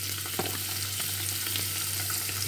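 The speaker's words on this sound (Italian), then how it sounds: "Ho fatto riscaldare l'olio, ho messo un po' di cipolla, adesso aggiungo" Squid pieces frying in hot oil with onion, a steady dense sizzle and crackle close to the pan, with a low hum running underneath.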